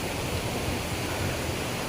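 A steady, dense rush of a village waterfall and stream fills the scene close up, continuous and unbroken, with no voices.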